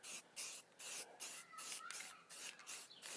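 Short hissing bursts of spray paint coating an HPI Baja 5B chassis, about eight even blasts in quick succession, close and with no talking.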